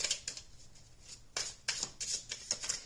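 Tarot cards shuffled and drawn by hand, a string of soft, papery riffles and slaps at close range with short pauses between bursts, quiet and without talk.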